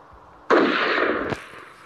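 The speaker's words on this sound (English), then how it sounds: "I'm gonna shoot him through his helmet." A single sustained burst of gunfire in the video game Clear Vision 3, a sharp loud crack holding for under a second before cutting off, with no talk over it.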